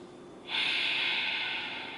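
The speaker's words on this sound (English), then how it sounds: "Using our Ujjayi breathing in through your nose and out through your nose" Ujjayi breathing through the nose during a yoga session comes as one long, airy hiss that rises abruptly and holds steady, close and fairly loud, with no talking.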